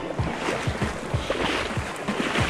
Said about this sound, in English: Still wading in water.